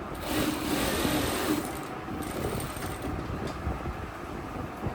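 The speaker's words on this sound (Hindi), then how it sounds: "फिर स्पीड में मशीन चला के देखेंगे धागा नहीं काट रहा है ना वो।" A sewing machine runs at speed, a steady whirring mechanical drone that stays close and even throughout with no talk over it.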